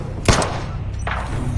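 A single loud gunshot blast in an action movie scene, with a sharp crack and a booming tail, then a softer second burst of noise about a second later.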